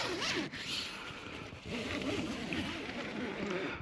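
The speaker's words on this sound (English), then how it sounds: "so you can zip it down from either side" Zipper on the door of a one-person OEX Bobcat 1 tent being pulled down in a steady continuous run, close and fairly loud, with a short pause partway through and faint rustling of tent fabric.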